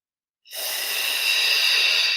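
A Pilates exerciser takes a long, breathy inhale while lowering from a chest lift, starting abruptly after silence and holding as a steady close hiss.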